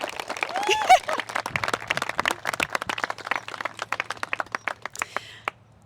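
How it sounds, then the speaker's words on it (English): Guests at a wedding break into a round of applause for the newly married couple, a dense wash of clapping from a sizeable crowd that thins into scattered claps, with a few voices murmuring underneath. "let's give this wonderful couple the first round of applause of today"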